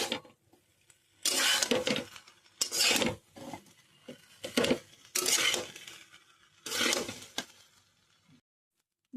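Fried rice with ghee is stirred in a pan over a low gas flame, giving several bursts of scraping and rasping from a spoon against the pan, separated by short quiet gaps.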